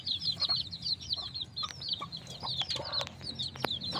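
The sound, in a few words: chickens, roosters fighting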